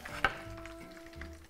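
Lamb pieces with garlic frying in fatty oil in a pan, a soft, close sizzle with a brief clack of a utensil near the start, quiet and steady.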